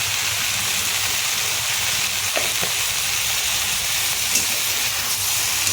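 Potato curry with coriander and cumin powder and salt sizzles loudly and steadily in a pan while being stirred, a close, continuous frying hiss with no talking.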